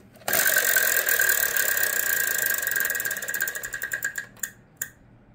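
A game-show prize wheel spins loudly on a studio stage, a fast steady clatter of pegs against the flipper that gradually slows into spaced clicks before stopping with a couple of final ticks.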